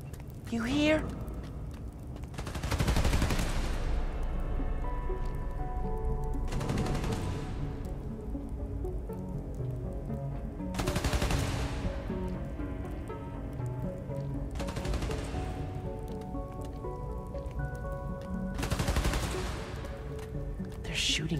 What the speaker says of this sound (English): They're shooting Transformers?